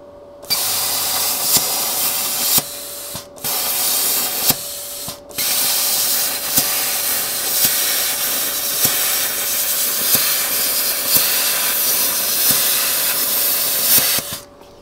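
An ESAB Cutmaster 30+ plasma cutter cutting expanded metal gives loud, close, continuous hissing roars, broken by a few short gaps as the arc stops and restarts, with a steady tone running underneath.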